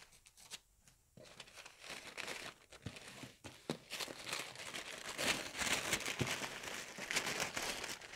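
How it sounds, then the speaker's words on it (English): Wrapping paper is torn off a gift-wrapped custom shoe box holding Italian leather shoes, producing faint, close crinkling and ripping in irregular bursts. "It's almost a shame to take the paper off because it looks good just as it is."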